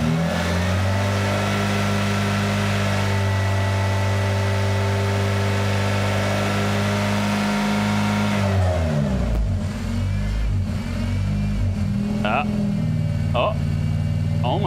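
Honda car engine running steadily, then revving up and down in uneven bursts, loud and close, with a voice talking over it.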